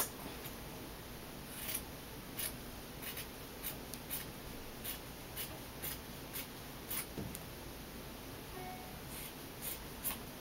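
Scissors snip through fabric while a DIY no-sew beanie is being cut out, a series of short, crisp cuts in irregular rhythm, close to the microphone against a quiet background.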